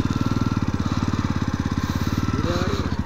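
A Jawa motorcycle engine runs just after starting, loud and close. It keeps a rapid, even thumping beat, and a faint voice comes in near the end.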